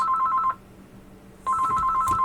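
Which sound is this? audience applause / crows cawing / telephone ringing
telephone ringing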